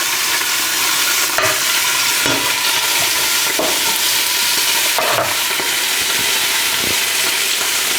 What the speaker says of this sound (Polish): I smażymy drugą partię